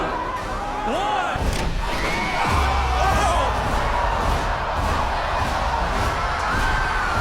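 A crowd of contestants on a platform above piles of cash cheers on cue, a loud sustained roar of mixed shouting voices that holds steady throughout.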